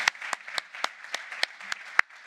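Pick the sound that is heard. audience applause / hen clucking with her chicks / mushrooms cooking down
audience applause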